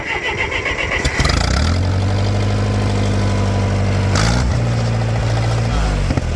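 A Farmall 504 tractor engine cranks and catches after about a second, then settles into a loud, steady idle close by, with a brief rise in speed partway through.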